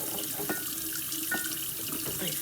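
Hot water runs from a kitchen tap into a pot in a steady, loud gush, close by, with a few faint clanks underneath.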